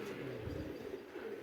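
Pet pigeons coo softly in a low, continuous murmur, several birds together at a moderate distance with faint background noise and no talk.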